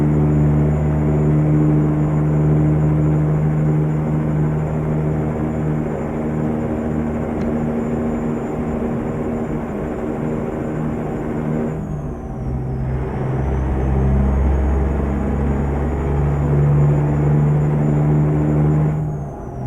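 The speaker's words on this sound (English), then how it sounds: "Truck's a little loud." Loud, steady engine drone of a heavy-haul truck in a truck driving video game, a continuous low rumble with a brief dip and shift near the middle, then resuming, with no talk over it.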